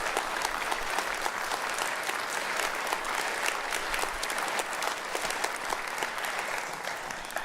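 Audience applause at an awards gala, sustained dense clapping from a large crowd, loud and even for several seconds without pause.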